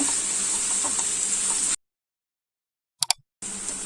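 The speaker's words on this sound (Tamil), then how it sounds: "லைட்டா கொஞ்சம் பிரவுன் கலர் சேஞ்ச் ஆகிற வரைக்கும் நல்லா வதக்கி விடலாங்க" Onions sauté with salt in a pan for a masala, giving a steady, close, hissing sizzle that cuts out into silence, broken only by a couple of brief clicks, before the sizzle resumes.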